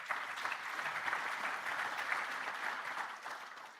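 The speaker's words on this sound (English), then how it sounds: "And we must give him a round of applause for that." Steady, dense applause from a large conference audience at an investment event in Limpopo, sustained at an even level for several seconds with no voices over it.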